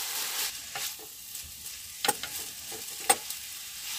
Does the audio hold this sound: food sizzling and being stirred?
yes